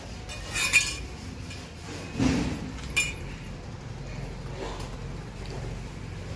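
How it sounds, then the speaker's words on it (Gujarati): A large spoon stirring in a kadai, with a few sharp metallic clinks and scrapes spaced apart over a low, steady background. "હા એમાં પેલા ચમચાથી હલાવી દે"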